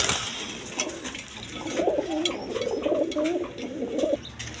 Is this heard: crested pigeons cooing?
yes